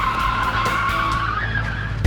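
Two cars joined bumper to bumper skid through a corner after reaching 40 miles per hour, a loud continuous tire screech with a whining tone over engine rumble, no talk.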